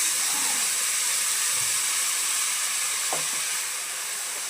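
Spice paste dropped into onions already frying red-brown in oil, giving a steady close sizzle and hiss with a brief stirring scrape partway through, no voices.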